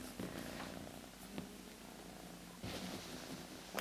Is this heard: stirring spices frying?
no